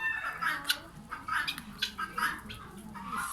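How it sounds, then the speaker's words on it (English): Chickens on a farm cluck and chatter faintly in a busy, overlapping stream of short bird calls, heard from a little distance against a soft outdoor background. "Chicken."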